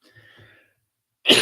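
A single loud, harsh cough bursts out near the end after a stretch of near silence with faint murmuring.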